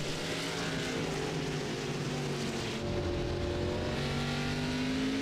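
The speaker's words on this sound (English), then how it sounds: "you can hear the throttle inputs for these guys" Several race car engines in the iRacing sim game drone and whine together at Lime Rock Park, pitch rising and falling with throttle changes, a continuous layered roar with no talk.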